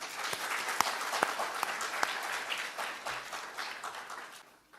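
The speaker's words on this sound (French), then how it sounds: "je voudrais aussi qu'on nous dise merci à travers nos applaudissements" A crowd at a cultural gathering with the Ivorian community applauds, dense clapping with a few sharp individual claps standing out, tapering off toward the end.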